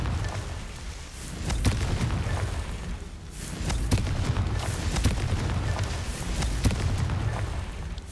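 Fiery blast of the Confringo spell cast in the Hogwarts Legacy game: a booming burst with crackling impacts over a low rumbling game backdrop, several sharp transients scattered through the loud, steady din.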